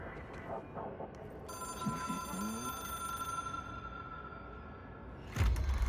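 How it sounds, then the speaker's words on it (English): An old-fashioned telephone bell rings steadily in the video game Control, a sustained metallic tone over a low ambient hum, ending with a louder thump near the close. "It is a phone."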